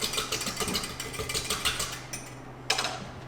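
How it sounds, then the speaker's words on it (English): Vinaigrette dressing being whisked in a bowl, a steady rapid metallic clatter of whisk against the sides that runs for a couple of seconds, pauses, then resumes briefly, close and fairly quiet. "Whisk is just faster, but you could use a fork."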